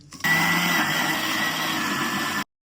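A mixer grinder whirs loudly and steadily for about two seconds, grinding dosa batter with sour buttermilk, then cuts off abruptly into silence.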